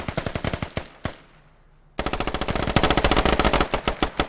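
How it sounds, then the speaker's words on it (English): Machine gun fire in the Squad video game: rapid, loud automatic bursts, a short pause with a fading echo, then sustained continuous firing close by, with no speech. "The Sodan initiates a gunfire."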